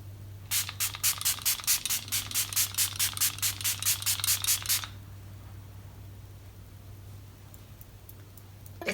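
A setting spray mister fires a rapid series of about twenty short, close, even puffs over roughly four seconds, then stops, leaving a steady low background hum.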